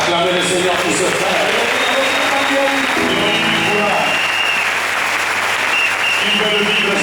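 A church congregation applauds and acclaims, with dense, loud, steady clapping and crowd voices filling the whole stretch without a break.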